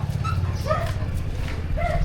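A dog whimpers and yips in short, rising cries, several small whines spread across the moment over a low background hum, with no talking.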